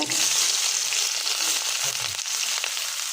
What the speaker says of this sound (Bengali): এখন পেঁয়াজ মরিচ দিব এর ভিতরে